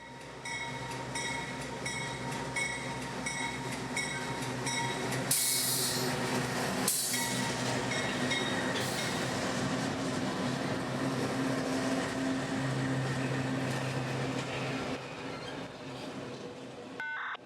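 A freight train rolls past on the A Line rail route, a steady rumble of wheels and cars running close and loud for the full stretch, with a brief burst of hiss partway through.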